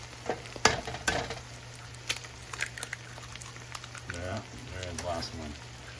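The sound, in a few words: stirring ground beef frying in a pan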